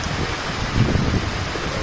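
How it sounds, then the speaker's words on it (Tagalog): Steady broadband wash of heavy rain pouring down on a farm, a continuous hiss at moderate level with a slightly louder swell in the middle and no talk over it. "bumuhos na naman yung ulan"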